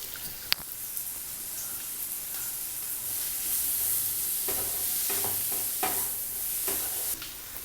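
Tomatoes sizzle in a pan for a spicy egg pepper masala while a spoon scrapes and stirs them in irregular strokes, a steady close hiss of frying throughout with no talking.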